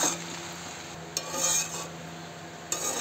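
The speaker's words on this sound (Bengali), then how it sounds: "চাউমিনটা দিয়ে গ্যাসটা সিমে রেখেই ভাজতে হবে, নাহলে কড়াইতে লেগে যায় চাউমিন।" Chowmein tossed in a wok over a low flame, a soft steady sizzle with occasional scraping and clinking bursts of stirring, close and alone.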